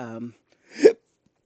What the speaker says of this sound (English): Ooh, that was a hiccup.